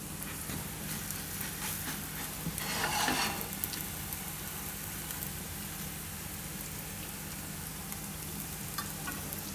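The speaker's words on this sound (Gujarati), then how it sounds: "આપણે થોડુંક તેલ નાખીશું. આમાં આપણે આને શેકી લેવું." Mughlai paratha frying in oil in a pan, a steady broadband sizzle running throughout with a brief louder burst of crackling partway through, no voices.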